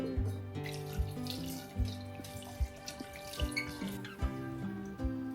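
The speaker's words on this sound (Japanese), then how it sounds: "これぐらいたけのこが浸るぐらいの水を入れて、" Water runs steadily from a tap into a metal pot holding bamboo shoots, with faint clinks and a low, continuous splashing.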